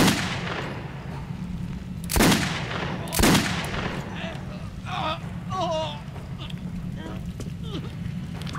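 Gunfire in the video game Metro 2033, with two loud, sharp bursts of shots close together and then quieter clatter and scattered game noises over a steady rumbling background.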